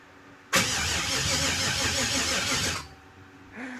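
LS-swapped Chevrolet Caprice engine cranking on a weak battery: a loud starter churning with uneven, labored pulses for about two seconds, then stopping abruptly, followed by a short faint whir.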